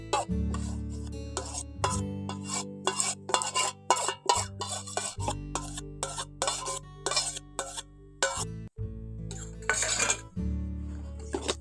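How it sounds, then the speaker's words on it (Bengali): Whisk clattering in a bowl while beating egg yolk into a cake batter, irregular clinks and scraping strokes in quick bursts with short pauses, close and fairly loud, no speech. "এর মধ্যে কুসুমটা দিয়ে দিচ্ছি দিয়ে আর একটু ভালো করে ফেটে নিতে হবে"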